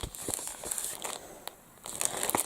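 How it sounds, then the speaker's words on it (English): Crinkly plastic wrapper rustling and crackling as an iron-on craft foil is pulled out of it, close and fairly quiet, in irregular bursts with a brief lull midway. "So I might need to take it out the wrapper so you can see."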